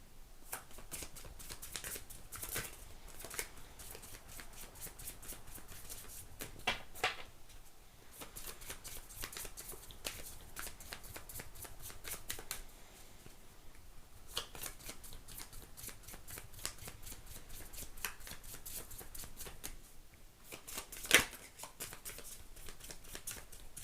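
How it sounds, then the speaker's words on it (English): Tarot cards are shuffled over and over at close range, a steady papery riffling and snapping that continues almost without pause, faint and with no voices. "Really wants me to shuffle, apparently."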